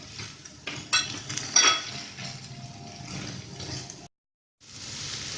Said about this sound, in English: Now I'm adding your sliced mushroom